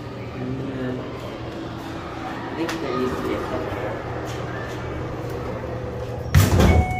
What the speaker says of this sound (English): look how the door opens